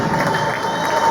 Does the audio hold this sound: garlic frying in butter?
no